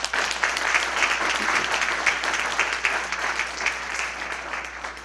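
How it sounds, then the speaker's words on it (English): Guests at a chamber of commerce annual dinner applaud, a lively burst of many hands clapping close by, strong at first and slowly tapering toward the end. "So a quick round of applause for Nancy Jo."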